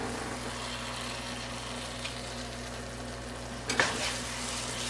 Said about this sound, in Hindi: फिर इसको अच्छी तरह से भूनेंगे।